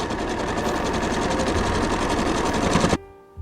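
A sewing machine stitches the underarm seam of a dress sleeve, a fast continuous mechanical whirr for about three seconds before stopping abruptly.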